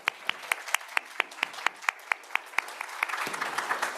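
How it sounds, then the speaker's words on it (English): An audience at a Long COVID symposium applauds the event organizer, with sharp distinct claps in a steady rhythm that thicken into fuller applause toward the end, moderately near. "I hope that we can applaud for her."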